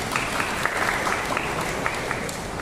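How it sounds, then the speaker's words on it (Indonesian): Congregation applause during a church homily, a steady dense patter of many hands with a few sharper individual claps standing out, fairly loud and close. "tepuk tangan untuk kita"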